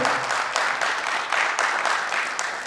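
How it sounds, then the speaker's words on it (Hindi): Loud, lively applause from a theatre audience after the play "Bikhre Aks", dense clapping with a few distinct louder claps, sustained briefly without talk. "जोरदार तालियां"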